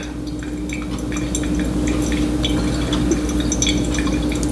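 A steady trickle of water is poured over coffee grounds in a V60 dripper. A continuous close splashing stream carries faint drips and a low hum underneath, with no talking.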